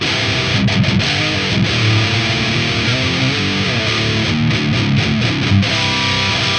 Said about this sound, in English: I'm getting some pretty mean metal tones already.